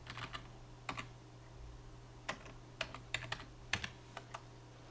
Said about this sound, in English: you type escape X and then you type run Octave